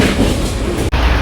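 A Paris metro train runs with a steady loud rumble and rail noise, a brief dropout near the end, no talking.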